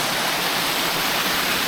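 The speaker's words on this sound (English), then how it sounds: "where I'm set quite close to the waterfall" Steady broadband rush of the Folly Dolly waterfall heard from close by, a continuous loud roar of falling water with no other sounds.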